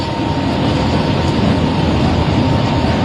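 Steady, loud rumble and rushing noise of a moving train heard from inside, a constant rolling roar with no talking.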